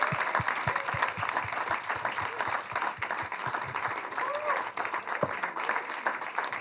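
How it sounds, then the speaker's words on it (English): A festival crowd at an arts-of-resistance event claps warmly in an unbroken wash of applause, moderately loud and evenly sustained, with individual sharp claps popping out near the front. "A very, very warm applause of gratitude and inspiration for June, Pravini, Chihiro,"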